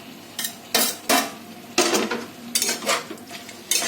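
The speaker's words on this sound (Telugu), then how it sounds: "టమాటోస్ వేసి మళ్ళీ ఒకసారి ఇట్లా కలుపుకోవాలి" A spoon scrapes and clatters around a pan as tomatoes are stirred into chicken curry, making several distinct bursts of clinks and scrapes with short pauses between, close and fairly loud, under a faint sizzle.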